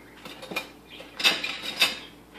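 A spoon scrapes and clinks against a bowl of Mexican dip made with finely chopped ingredients, giving a few short, close scraping strokes with a quiet pause between them and no voices.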